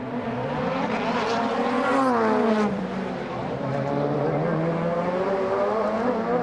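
DTM race cars from Mercedes and Opel at the Norisring circuit in 2000 roar past, their engine notes rising and falling in a sustained, loud, continuous wail with no talk over them.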